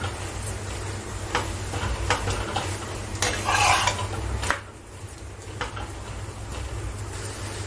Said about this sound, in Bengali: গ্যাসটা সিম করে আমি আস্তে আস্তে ভেজে যাচ্ছি